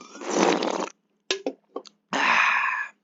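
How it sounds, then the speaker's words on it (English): Someone gulps water in a few loud, close swallows and sips, broken by short gaps, with no talking. "Drinking some water."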